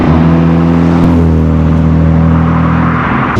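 A classic Mini's engine accelerates loudly and close by, a steady deep drone with a brief interruption around a gear change, and no voices over it.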